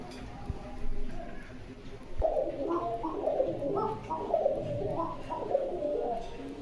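Two pairs of breeding pigeons coo close by in a run of repeated soft, throaty calls, steady after a short lead-in, with a voice speaking at times over them.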